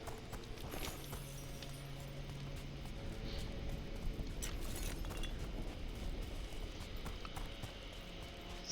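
Horse hooves clip-clop steadily in a fantasy video game, Dragon Age: The Veilguard, a soft repeated walking rhythm mixed with scattered game effects and ambient sounds.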